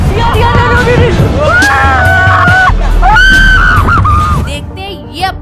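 Riders on an amusement ride let out loud, sustained screams and yells, several voices overlapping in long wavering shrieks over rumbling ride noise, then fading near the end.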